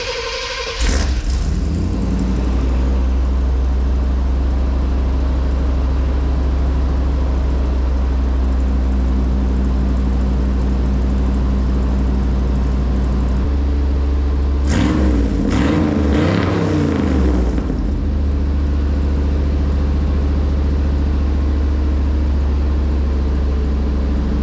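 An abandoned big block truck engine cranks, catches and settles into a loud, deep idle, then revs hard briefly midway before dropping back to a steady rumble; close and continuous, no voices.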